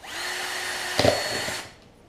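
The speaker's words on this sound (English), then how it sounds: "I'm going to drill gasification holes in the top of the can" A drill bores through a thin tin fruit can, a close, steady metallic whine with a brief rattling grind partway through before the motor winds down.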